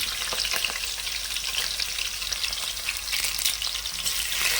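Green chillies crackle and sizzle in hot oil for a drumstick sambar, a steady, dense hiss running the whole time with small pops scattered through it, close and fairly loud, with no voices.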